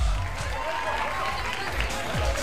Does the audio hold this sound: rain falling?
no